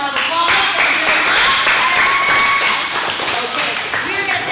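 A crowd of children and adults claps for the strangers at a kids' martial arts stranger-danger seminar in Tampa, Florida. The applause is steady and fairly loud, with voices mixed in, and runs through the whole clip.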